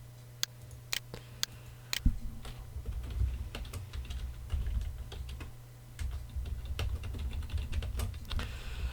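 Steady typing on a computer keyboard, a run of sharp clicking keystrokes with irregular rhythm, close by and fairly quiet, with no voices.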